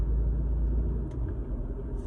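Car interior while driving, a steady low road and engine rumble holding constant throughout with no talking.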